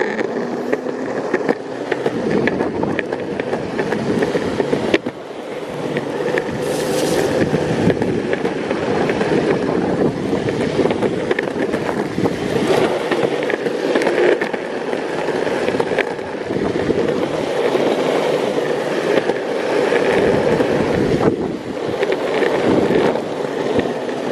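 A Teamgee electric longboard climbs uphill at high speed outdoors, with a steady loud wheel rumble and motor whine buffeted by gusts of wind noise across the whole ride.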